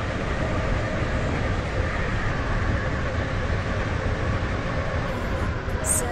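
A train pulls into a station in the Roblox game SCR, giving a steady, loud rolling rumble that holds evenly throughout with no break.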